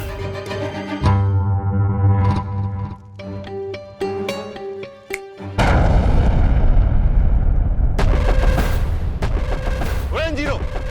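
A gunpowder blast in a historical romantic drama erupts suddenly as a loud, roaring boom after dramatic music, followed by a sustained rumbling roar with music swelling over it.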